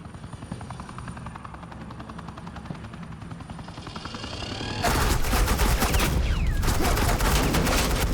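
Rapid suppressing gunfire from Batman: The Enemy Within bursts in over a steady helicopter drone, a dense loud clatter of shots that starts abruptly after several seconds of rotor hum.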